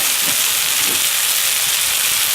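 Steak sizzles in a frying pan over a campfire, a loud, constant hiss and crackle of fat that runs without pause, close up and alone.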